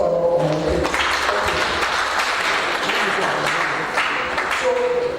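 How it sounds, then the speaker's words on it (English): An audience at a Coca-Cola seminar breaks into a round of applause, a dense burst of clapping that carries through the whole stretch, with a voice speaking over it. "This is a round of applause for our"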